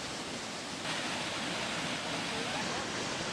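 Bijakasha waterfall near Jagdalpur in Bastar rushes in a constant, loud broadband roar of falling water with no pauses, steady and close throughout.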